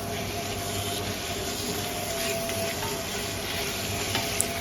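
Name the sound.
tomatoes sautéing in a pan for biryani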